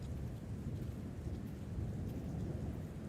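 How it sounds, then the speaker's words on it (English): Rolling thunderstorm ambience from Syrinscape played during a Dungeons and Dragons session, with steady heavy rain and low, continuous rumbling thunder filling the whole stretch, with no talking. "Nice rolling thunderstorm."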